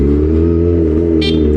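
A vehicle engine idles close and loud with a steady, even drone, throttle held light, with a brief high tone appearing near the end.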